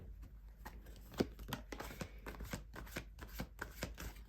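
Oracle cards from a deck being handled and set down, a steady run of soft close riffling clicks and light slaps with no voice.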